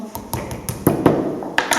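Light, quick taps on the skin of a pike being prepared for stuffing, struck gently to loosen it: about a dozen crisp, close knocks in an uneven rhythm with no talking.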